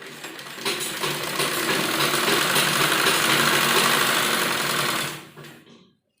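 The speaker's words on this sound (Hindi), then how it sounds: "और इस तरह हम इसको फोल्ड करेंगे और एक साइड हमें इसमें सिलाई लगानी है।" Sewing machine stitching a folded fabric seam for a child's net baby frock, running as a steady loud whir for about five seconds before stopping abruptly, no talking.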